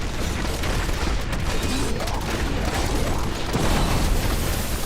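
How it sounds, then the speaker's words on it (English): Grenades from a Demon Hunter's build explode over and over in Diablo 3, a dense, continuous barrage of booms and crackling blasts with no talking. "my build automatically throws out grenades at everything"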